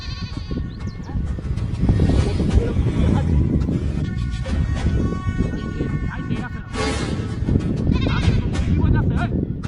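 Goats bleat loudly and repeatedly, close to the microphone, while people talk over them.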